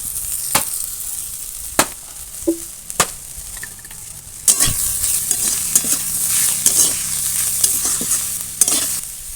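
Radish greens stir-fried in mustard oil, a steady close sizzle with sharp spatula scrapes and clacks against the pan at irregular intervals, no voices.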